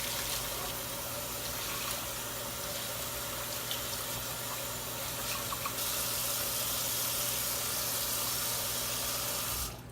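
Water from a tap runs steadily over a coarse aquarium filter sponge being rinsed in a sink, a continuous faint splashing hiss that cuts off at the end.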